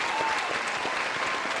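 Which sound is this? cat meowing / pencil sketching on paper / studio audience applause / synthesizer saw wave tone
studio audience applause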